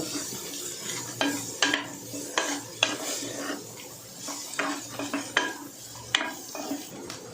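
Soaked chickpeas and green gram are stir-fried in a metal pan for usli, with a spatula clattering and scraping in quick repeated strokes over a light sizzle, close and fairly loud.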